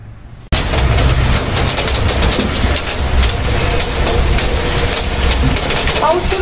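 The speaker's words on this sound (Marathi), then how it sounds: "खूप पाऊस जोराचा सुरू झालेला आहे" Heavy rain comes down hard and suddenly, a loud, dense, continuous roar of falling water with pattering spikes that starts abruptly after a brief quiet moment.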